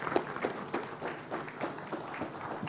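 A conference audience claps for presenters, a dense patter of many hands at moderate volume, fairly close and sustained, with no talk over it.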